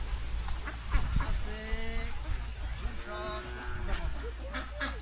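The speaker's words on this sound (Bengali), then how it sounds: "হাঁসগুলো ওনার সব।" A village flock of ducks kept on a pond quacks repeatedly in short bursts, close and fairly loud, while people talk nearby.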